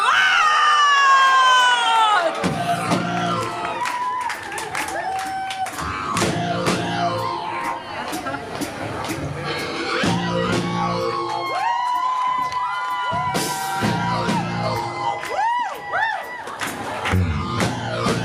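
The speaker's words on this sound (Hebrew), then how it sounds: "קבלו במחיאות כפיים סוערות את לובי לו והכלבות השחורות!" A live comedy-club audience bursts into stormy applause, cheering, whooping and shouts, a loud sustained crowd roar with scattered high screams and whistles running throughout.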